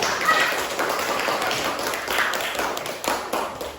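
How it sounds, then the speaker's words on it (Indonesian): A classroom group claps in a loose, scattered burst, sharp hand slaps overlapping with some chatter in the room. "Kasih tepuk tangan untuk kita."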